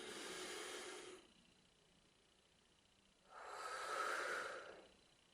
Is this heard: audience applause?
no